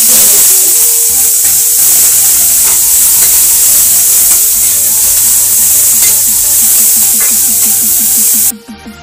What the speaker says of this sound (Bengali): দারচিনি, তেজপাতা সব দিয়ে দিচ্ছি। পেঁয়াজ, কাঁচা লঙ্কা দিয়ে দিচ্ছি।